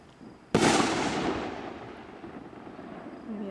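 Speed Racer fireworks shooting up in a single sharp burst at a demo show, a loud crack followed by a long fading crackle and hiss.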